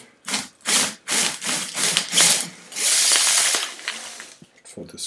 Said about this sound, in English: you have to use a, a stand drill for this to make it accurately